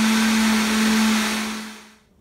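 A blender whirs steadily while blending a tropical smoothie, a loud continuous motor drone with a strong hum that runs alone and then winds down and stops at the end.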